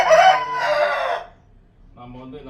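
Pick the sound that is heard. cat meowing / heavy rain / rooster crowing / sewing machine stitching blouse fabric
rooster crowing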